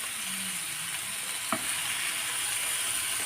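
Onion and tomato masala sautés in a pan with chili powder, garam masala and turmeric, making a faint, steady sizzle broken by a single brief stirring scrape.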